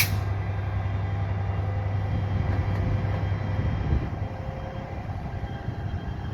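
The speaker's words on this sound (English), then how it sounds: "there's the train headed towards Beaurepere" Steady low rumble of a train rolling past Beaurepaire station at a moderate distance, a continuous drone that eases slightly toward the end.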